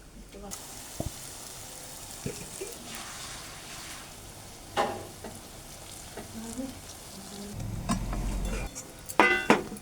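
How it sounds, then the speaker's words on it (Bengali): Urad dal fritters frying in oil until they puff up and turn red, a soft continuous sizzle with occasional stirring clinks and a louder bubbling burst near the end. "একদম লাল হয়ে ফুলে গেছে লাল করেই ভাজা হয়েছে"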